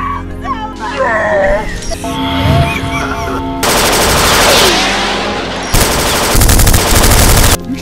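Movie trailer gunfire, with loud rapid bursts of automatic fire and shots in the second half, mixed with dramatic music, voices and shouting.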